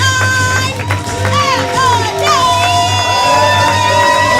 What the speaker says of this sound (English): Hooting and hollering becomes acceptable at a level 5.